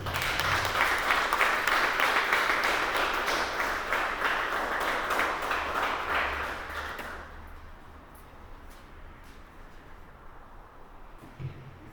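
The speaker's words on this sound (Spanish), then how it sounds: "Vamos a darle una ofrenda de palmas al Rey," A church congregation claps for the King during a Sunday Resurrection service, steady loud applause for about seven seconds that fades to scattered claps and quiet.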